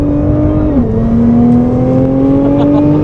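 A Nissan GT-R sports car on a track droning loudly at close range, its engine pitch dipping briefly and then climbing steadily again as it pulls, heard from inside or right beside the car without talking.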